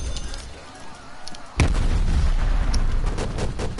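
Explosions and gunfire burst out in a video game, with a sudden loud onset partway through, then sustained rumbling booms and crackling blasts after a quieter stretch.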